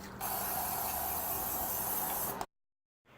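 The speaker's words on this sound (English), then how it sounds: "And then grease a baking pan." Cooking spray hisses onto a baking pan in one steady burst lasting about two seconds, then stops abruptly, leaving a brief silence.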